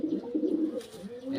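Pigeons, including a Panjabi-type pigeon, coo in a close, low, throaty rolling pattern, with a few short repeated phrases over about a second and a half and no talking.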